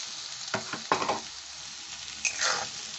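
Chicken hits a hot pan and fries with a crackling sizzle over low to medium heat, with several bursts of stirring and scraping, close up and without speech.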